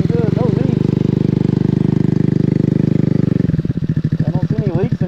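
A Maddog scooter engine with a gravity-fed fuel system runs close by with a steady buzzing idle that then turns choppy and uneven near the end, while a person talks over it.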